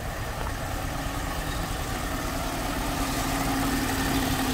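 A $400 Jaguar S-Type with its six-cylinder engine idling steadily, a smooth, even low rumble heard close with a faint hum on top, running alone without voices.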